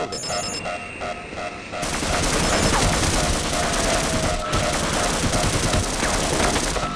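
An automated turret in Half-Life fires a continuous, loud burst of rapid gunfire that cuts in after a short electronic whir and keeps hammering for several seconds.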